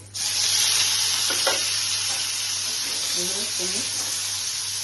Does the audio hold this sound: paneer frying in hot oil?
yes